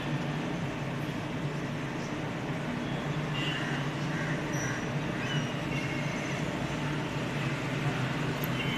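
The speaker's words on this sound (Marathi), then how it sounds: "ही ट्रेन आहे बघा आमची." A low, steady rumble of the Guruvayur–Chennai Express train idling or moving slowly at a station, with faint high squeals and clanks in the background.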